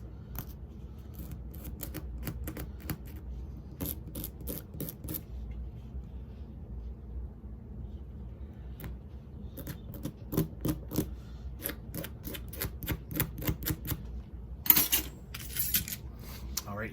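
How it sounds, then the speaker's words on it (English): Thin cork being scraped off the thumb rest of a Martin tenor saxophone during an overhaul, heard as short, dry, close scratching strokes that come in irregular bursts and grow denser and louder near the end. "Pretty thin cork, but we'll go ahead and scrape this down."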